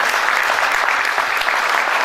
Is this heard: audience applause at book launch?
yes